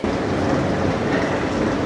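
A train rumbles steadily nearby at a station platform, a loud continuous roar of wheels and engine with no pauses, from the Amrit Bharat Express, Sealdah to Banaras, at platform 13.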